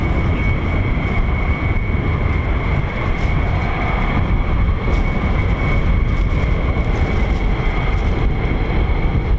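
A C-130 aircraft flies high overhead near a US Air Force fighter base, giving a continuous loud, steady propeller drone with a sustained tonal hum and no talk over it.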